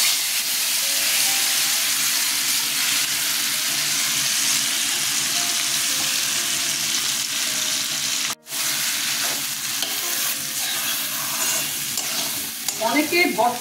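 Mashed jackfruit seed with onion frying and being stirred in a hot wok, a steady broad sizzle with scraping stir strokes, close and continuous with one brief break.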